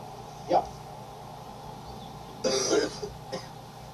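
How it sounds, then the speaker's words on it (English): Two short coughs with a gap between them, the second a louder, rougher burst followed by a faint catch, close up over a quiet room hum. "Still coughing."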